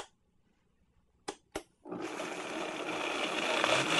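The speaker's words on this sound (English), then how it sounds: "turn your high-speed blender on to a very high speed to really get it to turn into a gel." A high-speed blender blends coconut milk and Irish moss into a gel. After a quiet start and two brief clicks, it roars up into a loud, steady whir that continues to the end.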